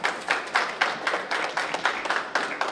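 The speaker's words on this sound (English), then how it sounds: "Give them a round of applause." A small crowd claps steadily, a brisk flurry of hand claps close by at moderate volume.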